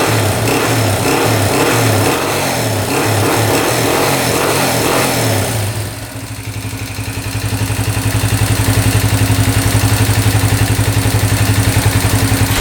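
A street legal dirt bike with a damaged valve runs close and loud, its engine pulsing rhythmically, then dropping briefly before rising and holding a higher, steady drone, with no speech.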